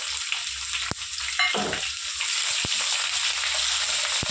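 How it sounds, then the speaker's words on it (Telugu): Steady sizzle of onions and seasoning seeds frying in hot oil crackles throughout, with a few sharp clinks of a utensil against the pan and a brief stirring scrape; no one speaks. "ఎక్కువ ఫ్రై చేయొద్దండి ఉల్లిపాయలు"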